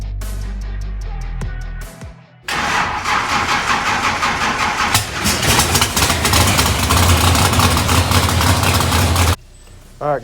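A ProCharged 1966 Pontiac GTO strapped to a dyno cranks, fires on a cold start and runs loud and rough for several seconds before cutting off.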